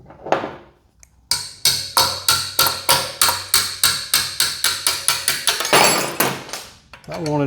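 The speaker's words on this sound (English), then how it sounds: "Why'd you beat on it with that wrench?" Rapid series of metal-on-metal blows from a wrench beating on a locked-up 212cc Honda clone engine near the muffler, about fifteen sharp strikes in steady rhythm, close and loud, with brief talk before and after.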